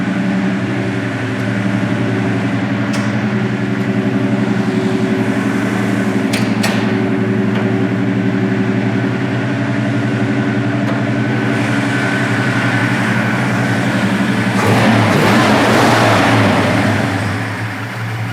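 A 1971 Plymouth Duster Twister V8 running at fast idle, a steady, loud, close rumble that holds evenly throughout, with a brief swell in revs near the end and no talking.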